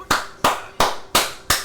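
Five sharp claps land at an even, slow pace, each one crisp and close with a short decay, alone with no talk.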